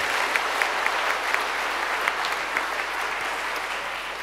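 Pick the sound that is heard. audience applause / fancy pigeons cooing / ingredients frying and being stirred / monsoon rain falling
audience applause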